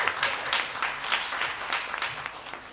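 A live audience at a women of color roadshow event in Los Angeles claps, a brief, moderately loud patter of hands with uneven swells and no talk over it.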